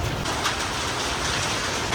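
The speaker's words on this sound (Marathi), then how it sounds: "एकदम खतरनाकवाला पाऊस पडतोय" Heavy April rain pours down under a shed roof, a dense, loud, unbroken roar of water hitting surfaces that stays steady for the whole two seconds, with no voices.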